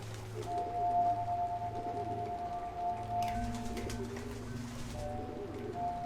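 Pigeon-like birds coo repeatedly inside the puzzle game Antichamber, soft, steady calls sitting over a low droning ambient hum with a brief brighter burst midway.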